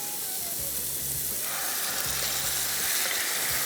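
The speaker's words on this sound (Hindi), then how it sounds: "जैसे ही पैन गर्म हुआ, इसके बाद हमने इसमें ये चिकन शामिल कर देना है।" Chicken pieces frying in hot oil in a pan, a loud, steady sizzle with hiss close by, and no talking.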